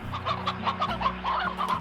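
Chickens in a video game cluck in quick, bright bursts over a low electronic tone, several short calls overlapping closely in a brief sequence.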